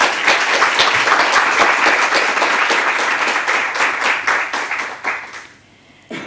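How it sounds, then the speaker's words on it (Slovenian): An audience at a government award ceremony applauds steadily in a dense, close wash of clapping that thins out and fades near the end. "Lahko damo še en aplavz."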